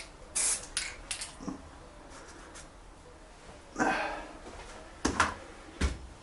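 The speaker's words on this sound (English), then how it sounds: "I'm actually going to spray the mesh on there as well." Short hissing bursts of spray paint lay a mesh pattern onto an airsoft rifle's butt plate. There are about six quick sprays with quiet pauses between them, close and fairly loud.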